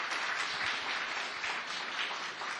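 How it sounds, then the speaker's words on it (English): An audience at a COP 28 climate panel gives steady, sustained applause. The clapping fills the whole stretch at an even level, with no voices over it. "Please give them a round of applause."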